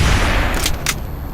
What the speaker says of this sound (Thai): เราจะยิงปืน